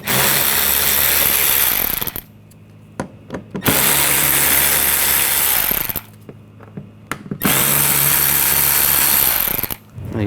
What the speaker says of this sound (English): Use a T20 socket. Take these screws out.